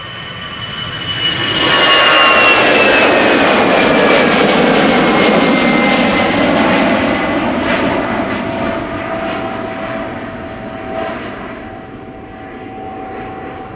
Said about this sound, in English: This is EasyJet flight 2251 6 going to London Luton, A319, 12 years old,